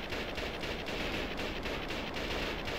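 Rapid gunfire from a vehicle in the TerraTech building game attacking a target, a dense steady rattle of shots that continues without a break and stays loud throughout.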